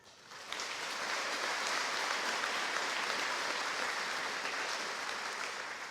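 Graduation crowd breaks into applause for honor students, starting abruptly after a moment of quiet and swelling into a steady, fairly distant wash of clapping that tapers slightly at the end.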